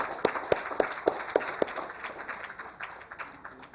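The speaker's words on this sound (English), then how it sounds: "I would like to request everyone to give a big round of applause." Scattered applause at an award ceremony: several sharp, distinct claps in a loose rhythm early on, thinning into a faint, diffuse patter of hands in a fairly quiet room.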